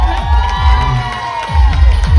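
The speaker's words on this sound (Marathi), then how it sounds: "जोरदार टाळ्या दक्षासाठी." A crowd cheers and whoops loudly for a special award winner at a village fair gathering, the shouting sustained over the whole stretch with a few low thumps beneath.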